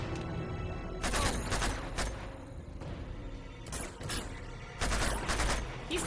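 Repeated bursts of automatic gunfire in the Uncharted 2: Among Thieves video game, loud broadband volleys coming in several clusters across the stretch with brief lulls between them, no talking.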